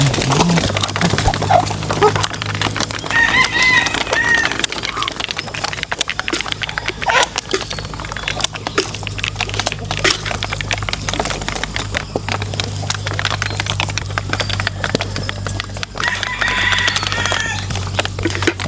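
Pullets clucking and chattering in a poultry pen, soft scattered calls over a constant low hum and rustling, fairly close, with occasional louder squawks.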